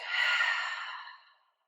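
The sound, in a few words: deep breath in and out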